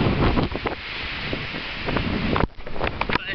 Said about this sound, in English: It's windy, the clouds are really moving.